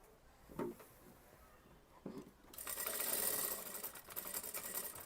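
A sewing machine stitches an Anarkali kurti, a couple of brief whirring bursts at first, then a steady, faint mechanical run of rapid stitching close by.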